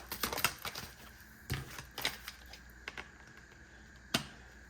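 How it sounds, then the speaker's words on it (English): A tarot card deck is shuffled by hand, giving quick papery riffles and crisp card snaps in short bursts with gaps between, close and fairly quiet, with no talking. "Let me give this a quick shuffle."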